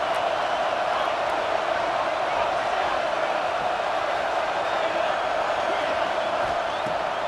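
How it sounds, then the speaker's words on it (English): Home stadium crowd roaring in the EA Sports College Football 26 video game, a broad, steady wall of cheering and whooping that holds at an even, loud level for several seconds without a break. "how nice is it to have the home crowd going absolutely bananas?"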